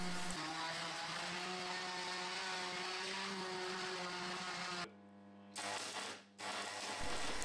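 A handheld power tool works over a welded chain axe handle, smoothing and cleaning the surface, as a steady loud whine with harmonic tones that cuts out twice briefly near the end before resuming.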